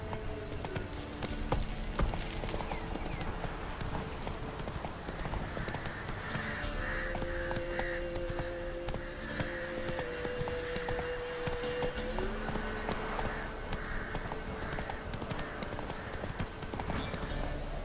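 Roach, a horse in The Witcher 3: Wild Hunt, gallops with a continuous fast, rhythmic clatter of hooves, close and fairly loud, over a game soundtrack with sustained tones, plus faint bird caws.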